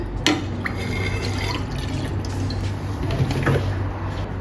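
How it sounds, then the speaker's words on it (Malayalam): Milk pours steadily into a pan for bottle gourd halwa, a continuous liquid filling sound with light drips and a faint metallic clink near the start, close and unaccompanied by speech. "ഓക്കെ, ഇതിലേക്ക് പാലൊഴിക്കുന്നു."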